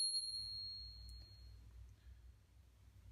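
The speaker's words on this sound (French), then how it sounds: "Et vous avez également une petite sonnette intégrée directement dans la poignée." A single small bell built into an electric scooter's handlebar grip dings clearly, then fades away into a quiet low hum.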